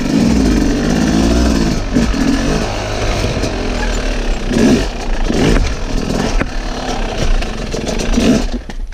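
Motorcycle engine revving and accelerating, loud and close throughout, with uneven surges and rattly clatter as the bike pulls away.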